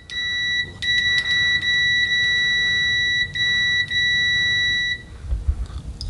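A ZOYI ZT-702S multimeter sounds its continuity beep as a steady high-pitched electronic tone, broken into several short and long bursts at full volume, close up.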